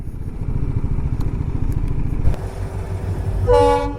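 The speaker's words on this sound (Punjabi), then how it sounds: "ਲੈ ਵੀ ਟ੍ਰੇਨ ਆਈ ਗਈ" A train rumbles past with a rapid clattering rhythm, then a loud horn blares near the end.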